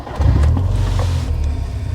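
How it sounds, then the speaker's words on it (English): A tuned 1.4 Rover Streetwise with a tweaked exhaust fires up, a loud close low rumble catching and settling into a steady throb over two seconds. "So this car does sound nice when it cranks over."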